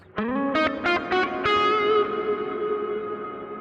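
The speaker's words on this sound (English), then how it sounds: "It's like a male choir singing in the background." Layered synth chords bloom into a shimmering reverb tail, a hazy sustained wash resembling a distant male choir humming in the background.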